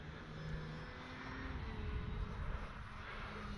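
A Dynam DHC Beaver V2 radio-controlled model plane on 4S power drones steadily overhead, its propeller buzzing at a constant pitch against outdoor wind noise.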